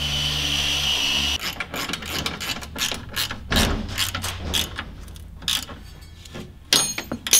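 A ratchet wrench clicks in quick repeated strokes while tightening bolts on an engine mount during a 2.5 engine swap into a VW T3, close and crisp with brief pauses between runs.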